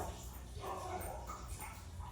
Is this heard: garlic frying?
no